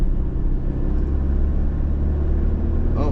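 A 2024 Toyota Tacoma TRD Sport with a manual gearbox pulls away in fourth gear at low revs, giving a steady, deep engine rumble that stays close and even throughout.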